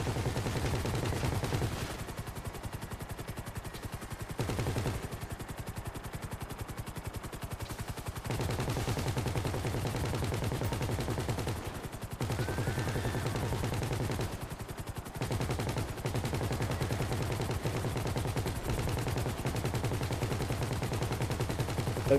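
Rapid gunfire in the video game GTA 5, dense bursts of automatic shots cracking almost continuously over a steady engine drone, with only brief pauses between volleys.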